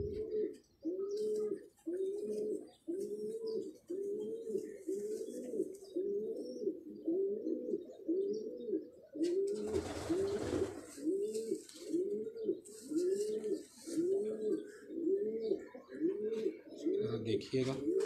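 Large original-breed domestic pigeons coo in a steady repeating rhythm, close and loud, for the whole stretch, with a brief burst of noise in the middle.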